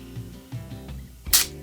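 Nikon D750 camera shutter: a few soft mechanical clicks followed by one sharp, crisp snap near the end, close and alone.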